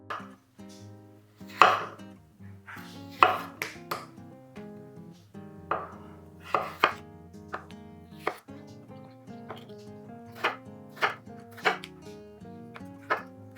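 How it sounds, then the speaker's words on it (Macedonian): Potatoes are chopped on a board with a knife, in sharp close knocks coming in irregular bursts with short pauses between them. "со самото сецкање на компирот"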